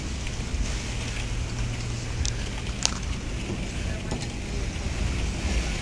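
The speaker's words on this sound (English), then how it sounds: "Look at this crazy rain we're having." Heavy rain pours against the side of a work building in Lakeland, Florida, a steady broadband hiss with some wind buffeting the microphone and a few faint clicks, no voices.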